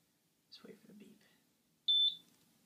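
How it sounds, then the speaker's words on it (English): An ESP8266 Arduino smart lock gives one short, sharp electronic beep, clear and close, following some soft indistinct sounds earlier. "Let's wait for the beep."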